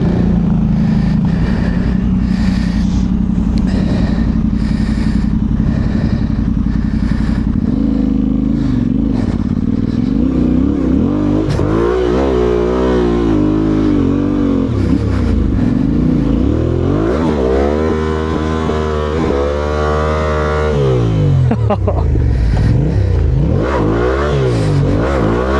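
A quad bike crosses boggy ground on a private Scottish estate. Its loud engine revs and bogs down over and over as it churns through the mud, close by, with some clatter.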